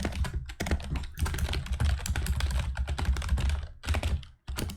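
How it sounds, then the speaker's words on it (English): Fast, uneven clatter of keys on a computer keyboard as someone types a line of text into an online game chat, with short pauses between bursts of keystrokes. "which I'll actually type it in right now"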